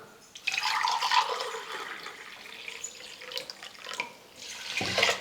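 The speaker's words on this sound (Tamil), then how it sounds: "முதல்ல 3 கிளாஸ் அளவுக்கு தண்ணி சேர்த்துடுறேன்." Water is poured steadily into a pot of rice and lentils for sambar rice, a continuous close splashing pour that swells near the end.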